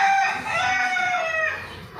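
Backyard chickens on a home farm in Thrissur, Kerala, give a loud, sustained, close-up call that carries steadily for about two seconds with no talk over it.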